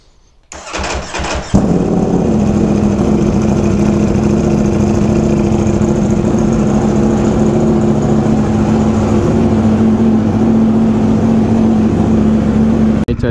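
A Ducati Panigale V4R motorcycle engine cranks with a short whir, catches with a loud bark and then settles into a steady, rumbling idle, close and loud, with no talking.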